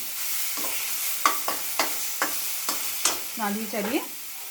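A thick paste of flat beans and garlic stirred in a pan: six or so evenly spaced scrapes over a faint sizzle, ending in a few squeaky, rubbing strokes.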